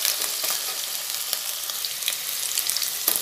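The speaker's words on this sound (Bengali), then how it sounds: "এটাকে আমি এবার একটু ভালো করে ভেজে নেব" Wet potato pieces, being prepared for a broccoli and potato fry, sizzle and crackle steadily in hot oil, loud and close with occasional stirring and no talking.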